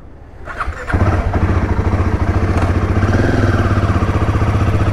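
A Himalayan 450 motorcycle cranks and fires after a brief starter whir, then settles into a loud, close, steady idle with a rhythmic single-cylinder thump.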